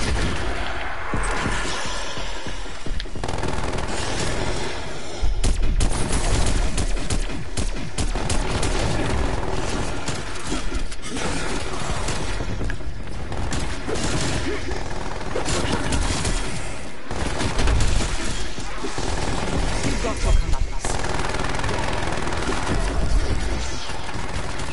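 A sentry gun in Call of Duty Black Ops Cold War zombies firing continuously, dense loud rapid gunfire with explosive thuds layered throughout, steady and relentless from start to finish.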